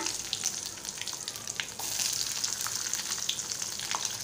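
Curry leaves and five garlic cloves frying in hot oil, a loud continuous sizzle with sharp crackles and pops scattered through it, heard close with no talking.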